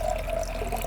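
Grape-colored liquid pours steadily into a container for about a second, a close, continuous liquid trickle with no talking.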